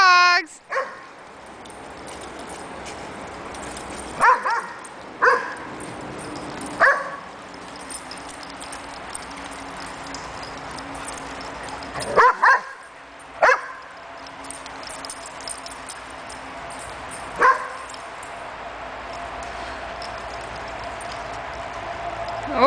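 Several sharp dog barks and yips ring out at irregular intervals, with faint whimpering between them outdoors, alongside a person's occasional voice.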